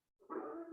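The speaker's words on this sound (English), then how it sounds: "I also think that the dogs barking might be getting picked up." A dog barking outside a house, one short, muffled bark at a moderate distance against otherwise quiet surroundings.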